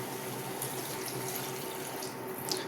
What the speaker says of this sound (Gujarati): એમાં હું 1 કપ પાણી ઉમેરી દઈશ